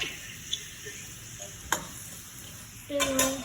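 Bell pepper, onion and garlic sautéing in a pan for pineapple chicken, a steady low sizzle broken by a few sharp utensil clicks, then a louder burst of stirring and scraping near the end.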